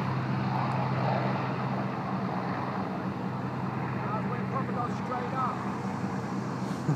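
A World War II P-51 Mustang propeller fighter taking off at FXE airfield gives a loud, steady engine roar with a deep throbbing drone that holds through the whole stretch, while faint voices murmur in the background.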